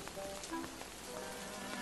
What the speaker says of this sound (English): I can't hear you because of the rain.